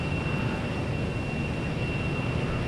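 A steady, unbroken jet engine roar and rushing air surround a jet aircraft climbing out just after takeoff in the Lock On flight simulator game.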